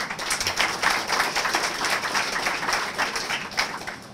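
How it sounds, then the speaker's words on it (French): Audience members at a university ceremony applaud with steady, moderately loud clapping from a mid-sized crowd, continuing evenly throughout without talk. "Donc, vous pouvez applaudir aussi la BID."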